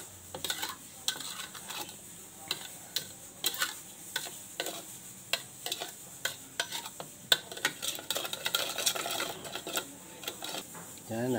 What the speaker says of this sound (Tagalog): Haluin lang po natin yan.